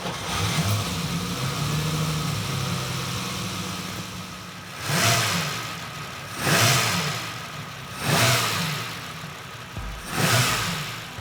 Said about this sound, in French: La sonorité du V12 Ferrari, un amateur d'automobile la reconnaît dans le noir, les yeux fermés.